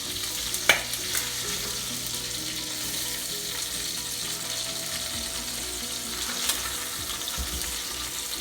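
Pig tails fry in hot oil with a steady close sizzle, and sharp pops of spitting fat burst through now and then over the constant crackle.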